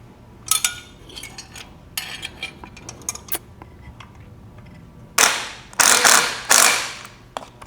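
Ratchet wrench snugging a flange nut on a 1973 VW Super Beetle 1750 cc engine: scattered clicks, then three longer loud ratcheting bursts near the end, close up, no talk.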